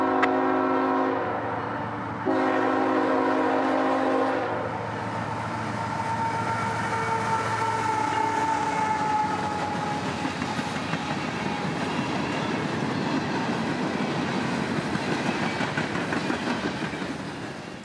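A CSX freight train, M457 bound for Orlando on the S-Line in Central Florida, sounds a loud horn in two long blasts, then rolls past with a steady rumble and clatter of wagons.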